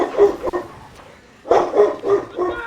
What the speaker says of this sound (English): My dog's barking at something.